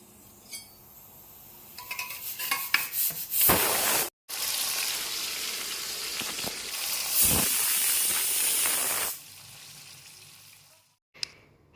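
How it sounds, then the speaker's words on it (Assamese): Chicken pieces dropped a few at a time into hot oil in a kadai give a loud, steady hiss and sizzle that swells and holds for several seconds, with a brief gap and a clatter near the end. "আৰু ইয়াত মই চিকেনখিনি অলপ অলপকৈ ভাজি ল'ম।"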